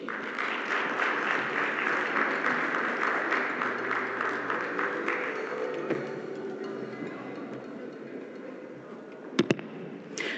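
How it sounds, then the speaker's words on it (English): A seminar audience gives warm, sustained applause as a speaker is welcomed to the stage. The dense clapping fills the room, then thins out toward the end, and a few sharp knocks come near the close. "welcoming her with a warm applause to the stage"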